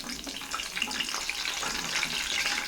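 Fresh curry leaves dropped into hot oil while making a Tamil snack give a steady, close crackling sizzle with a bright hiss and small pops that lasts a few seconds. No voices are heard.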